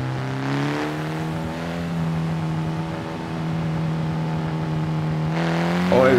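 A race car engine in the Assetto Corsa driving game holds a steady, loud, buzzing drone close by, then climbs sharply in pitch as it revs up at the end.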